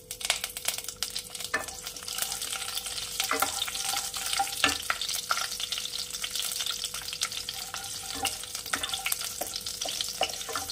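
Panch phoron and green chillies fry in hot oil for Bengali sajne mouri posto, giving a steady close sizzle dotted with sharp crackles and pops, with no voices.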